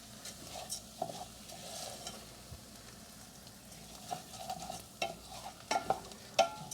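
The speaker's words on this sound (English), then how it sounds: "I got to stir this so it doesn't burn the rice." Rice is stirred in a sizzling pan, with a quiet steady frying hiss and irregular scraping knocks from the utensil. The knocks grow more frequent toward the end.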